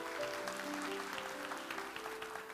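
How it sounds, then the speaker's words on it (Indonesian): A church congregation claps in praise during a sermon, a soft, distant patter of many hands over sustained musical tones, fairly faint and continuous. "Kasih tepuk tangan untuk Tuhan Yesus."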